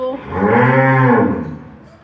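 A cow moos once in a long, loud, drawn-out call that swells and fades over about two seconds, heard alone and close by at a farm where livestock are kept sheltered from the cold.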